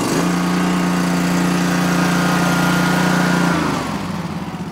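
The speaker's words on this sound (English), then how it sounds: "Great mower though." A lawn mower engine with an all-steel deck runs loud and close after a single pull start, a steady droning hum that drops in pitch and eases off near the end.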